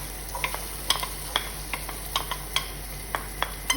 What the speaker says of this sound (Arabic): حطينا الزيت شويه احنا، وراح نقلي البصل